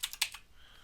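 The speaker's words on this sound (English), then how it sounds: "If I can type." A few quick keystrokes on a computer keyboard while entering a Windows path setting, a short burst of close, crisp taps that fades into quiet.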